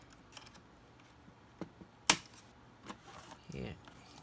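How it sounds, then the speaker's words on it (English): Small plastic clicks and snaps sound as a razor blade pries the keyboard out of an HP ProBook 4530s laptop, with one sharp loud pop partway through among quieter taps and scrapes. "pop the keyboard out."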